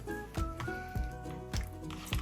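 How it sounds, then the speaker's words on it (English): Soft, wet squelching as homemade butter is squeezed by hand in cold water, several short squishes at an irregular pace, quiet and close. "just basically just squeeze it again so we can get all that buttermilk off."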